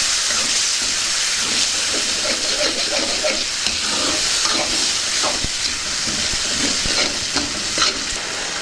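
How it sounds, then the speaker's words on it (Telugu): Cashew paste is stirred in a hot frying pan for a green pea paneer curry, with a constant sizzle and frequent scraping and clinking of the spoon against the pan, close and without talk. "ముందుగా తయారు చేసి పెట్టుకున్న జీడిపప్పు పేస్ట్ని వేసుకుందాం దీన్ని బాగా కలుపుకుందాం"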